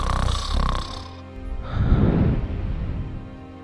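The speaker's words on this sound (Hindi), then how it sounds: "कुछ ही सेकंड में उसके भयंकर खर्राटे गूंजने लगते हैं" Loud snoring from a man sleeping after a heavy meal, a rough, rumbling inhaled snort swelling and then easing off, close and heavy, following a brief higher noisy sound.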